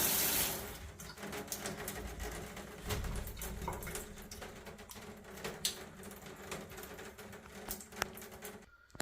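Water runs steadily from a Moen Posi-Temp 1222B single-handle tub/shower faucet just fitted with a new cartridge, a continuous broadband hiss that stays even throughout before cutting off abruptly at the end.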